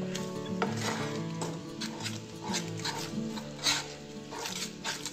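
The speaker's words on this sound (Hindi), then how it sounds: "इसको हम अच्छे से मिक्स कर लेंगे" Raw mango chunda mixture with salt being stirred in a pan, a steady scraping and clattering of the spoon against the metal continuing throughout under a soft musical background.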